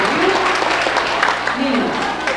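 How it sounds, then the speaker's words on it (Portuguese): A church congregation at a children's day event applauds with continuous dense clapping throughout, fairly loud, as voices carry over it. "Gostaria de dar mais uma salva de palmas para esse escola abençoado."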